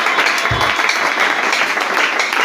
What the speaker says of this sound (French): est-ce qu'on peut acclamer à l'honneur de notre Jésus?